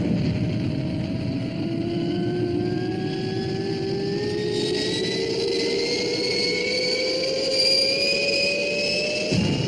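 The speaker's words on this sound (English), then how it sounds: "Ready for liftoff. All systems read green, XL5. Blast off." Fireball XL5 spaceship from the TV puppet series blasting off, a loud continuous jet-like roar with steadily rising whine tones, sustained throughout without talk.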